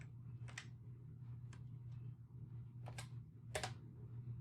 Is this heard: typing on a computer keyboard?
yes